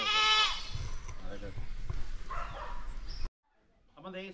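A Malabari goat lets out a loud, close bleat at the start, followed by further quavering cries amid farmyard sounds, with a person talking nearby.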